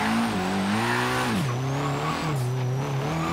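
Nissan Silvia S14 Kouki drifting in Forza Horizon 3, its engine droning loud and steady near the rev limiter, pitch dipping and climbing as the throttle shifts, with continuous tire squeal layered over the top.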